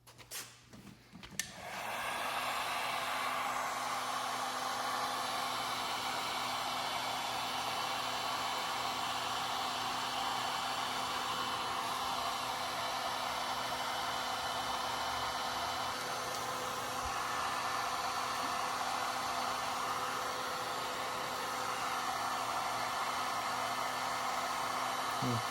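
A heat gun warming vinyl wrap on a car blows a steady, loud, close hiss that starts after a brief clatter and holds evenly for the whole stretch without a break.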